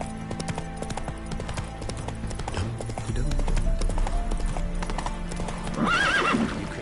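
Roach, the horse in The Witcher video game, gallops with steady rhythmic clip-clop hoofbeats over game music, ending in a loud whinny near the end.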